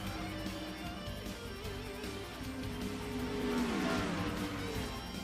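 Simulated NASCAR race cars at Dover in NASCAR Racing 2003 roar at a steady distance, a blended engine drone that swells briefly as cars pass, with faint tire noise and no voices.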